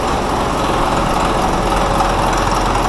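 CAT D8 dozer diesel engine that sat unused for over 15 years, now idling low and smooth, a loud, steady, even rumble heard close with no talking.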